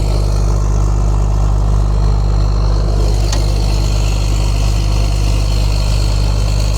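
A skidder's diesel engine runs in a winter storm, a loud constant low rumble with steady hum, a faint tick partway through and no talk.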